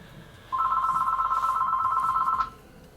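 A telephone rings inside a video game, one steady electronic trilling burst lasting about two seconds over a quiet background, with no talk.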